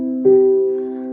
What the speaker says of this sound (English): So major sounds like this, or like a major chord